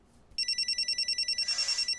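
A mobile phone rings indoors, a bright electronic ringtone pulsing in a quick steady rhythm, clear and fairly close, starting after a brief quiet moment and continuing to the end.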